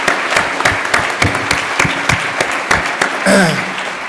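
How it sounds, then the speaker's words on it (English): An audience applauds a discussion panel at a conference salon session, a steady dense wash of clapping throughout that swells slightly near the end. "we have a minute to applaud this wonderful panel"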